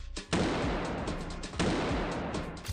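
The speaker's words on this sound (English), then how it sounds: "the circle guards in the background kept on getting scared and flinching whenever the gunshots were fired" Gunshots in a Squid Game scene, two sharp loud reports about a second apart, each trailing into a rumbling echo.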